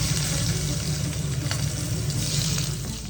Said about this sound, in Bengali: আমাদের তেল গরম হয়ে গেছে, এবারে দিয়ে দেবো হচ্ছে কালো জিরে, লঙ্কা চিড়ে রেখেছিলাম, সেই লঙ্কাটা দিয়ে দিলাম।